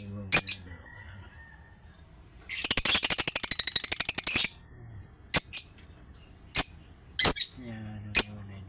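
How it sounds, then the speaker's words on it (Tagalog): Pet African birds give a rapid burst of about fifteen repeated chirps in a row, then several separate sharp squawks and tweets, close and fairly loud, with low voices murmuring between calls. "Tinitingnan ko yung mga ibon ko ngayon mga idol."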